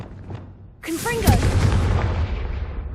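Confringo fire spell blast in Hogwarts Legacy, a sudden loud burst with a bright crackling flare that settles into a sustained roaring rumble, heard alone without other sounds.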